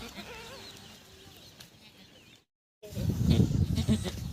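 A goat in labour bleats near the start, then after a short silence a louder, strained bleating and rustling animal noise fills the rest.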